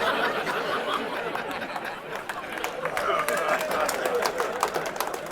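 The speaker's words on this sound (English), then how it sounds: "that was my first applause break, the Barbie joke" Audience at a stand-up comedy show clapping and chattering, a steady wash of applause with scattered laughter and voices mixed in.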